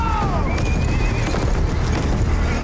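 Horses whinny and gallop in a scene from The Witcher season 2 episode 7, high neighs sweeping over a dense, loud rumble of hoofbeats and commotion that runs throughout.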